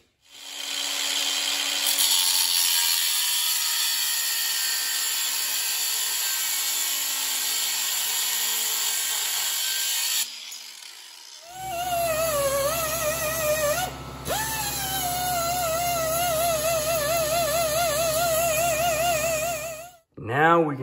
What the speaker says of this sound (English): We're gonna cut it just on this side of the black line.